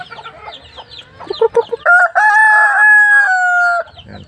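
Pet chickens, including Aseel fowl, cluck close by before a loud rooster crows once in a long drawn-out call, then the clucking resumes briefly.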